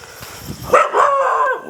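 A dog at a night-time village temple shrine gives a short burst of close barking, a couple of quick yelps following a quieter rustling lead-in.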